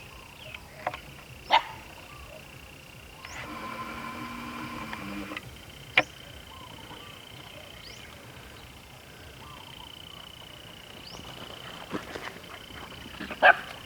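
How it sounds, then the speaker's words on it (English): Several dogs out by a pond on a morning, giving scattered barks and yips at moderate distance, with a few sharp close barks and softer playful whimpers in between, over quiet outdoor background. "And the dogs are having fun this morning."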